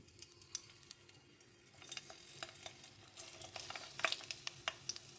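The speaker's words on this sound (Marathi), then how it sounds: "आता हे वांगे आपण यामध्ये परतून घेऊया तेलामध्ये।" Whole brinjal slit with four cuts turning in hot oil in a pan over low flame, giving a faint soft sizzle broken by small ticks and scraping stirs close by.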